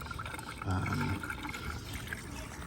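Water poured into the coolant reservoir of a Cadillac Escalade, a steady liquid gush that swells briefly loud near the start, then thins into a softer trickle under faint background noise.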